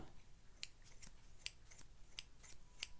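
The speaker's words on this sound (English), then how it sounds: "And now we'll listen to the scissors." Scissors snip repeatedly in crisp, quiet clicks, about seven cuts at an uneven rhythm, close by with a faint background hiss.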